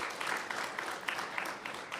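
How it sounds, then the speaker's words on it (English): Applause from an audience at an upstream petroleum local content policy consultation in Rundu, a fairly faint, steady patter of many hands with a few sharper claps standing out. "Can you give yourself a round of applause?"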